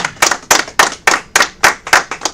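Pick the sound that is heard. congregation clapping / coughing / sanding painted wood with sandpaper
congregation clapping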